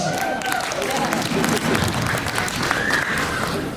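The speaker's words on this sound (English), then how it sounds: "that sounded like 10 people clapping" Audience applause fills a recital hall: steady, dense clapping from a modest crowd, fairly close, with scattered cheers and voices mixed in throughout.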